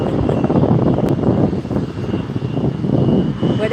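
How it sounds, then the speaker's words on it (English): A Delta airliner flies over LAX airport, its jet engine roar steady and loud throughout with a broad rumbling wash and no voices. "There's a Delta flight."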